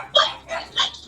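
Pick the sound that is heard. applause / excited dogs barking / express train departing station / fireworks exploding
excited dogs barking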